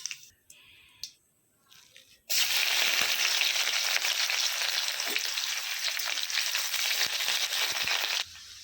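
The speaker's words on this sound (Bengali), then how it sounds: "জিরে ভাজা হয়ে গেলে দিয়ে দিব পেঁয়াজ" Onion frying in hot oil after whole cumin, a loud steady sizzle that bursts in after two seconds of quiet clatter and holds until near the end.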